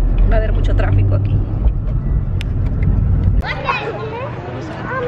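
Busy road traffic with cars and a bus idling and passing near a queue of waiting people, a steady low engine rumble with people chattering over it before the noise drops and voices continue.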